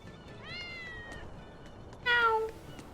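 Two cats in the video game Tales of Berseria meow one after the other, the first a rising mew and the second a louder, closer falling meow, over quiet background ambience.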